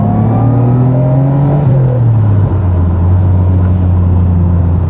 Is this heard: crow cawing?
no